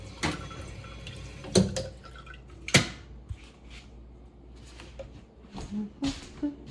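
Water run or poured into a container on a freezing, snowy day outdoors, heard as faint trickling and drips with a few sharper splashes and knocks, no talking.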